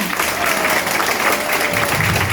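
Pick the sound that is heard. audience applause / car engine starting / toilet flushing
audience applause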